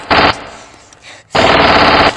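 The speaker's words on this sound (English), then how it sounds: "They're shooting machine guns." Two loud, sustained bursts of rapid automatic gunfire, like machine guns firing, separated by a quieter gap of about a second, with no talking.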